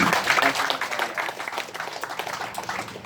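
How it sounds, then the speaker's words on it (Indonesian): A crowd claps at an Eid al-Adha gathering, a brisk patter of many hands with talking mixed in over it. "Tepuk tangan"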